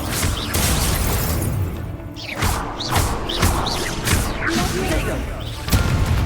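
Incendio fire spell blasting during Hogwarts Legacy combat: loud, dense whooshing bursts with several sharp crashing impacts over roughly six seconds, close and continuous, with game voices faintly mixed into the clatter.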